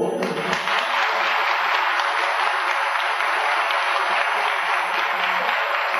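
A large audience bursts into loud, sustained applause for a singer at a 1997 Santa Bárbara music program, the dense clapping beginning abruptly and continuing steadily throughout.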